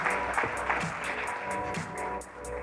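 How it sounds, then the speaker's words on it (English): An audience at a startup awards ceremony applauds the Minister, a sustained wash of clapping from a crowd in a hall, fairly distant and even throughout. "Can you please give a big round of applause to the Minister?"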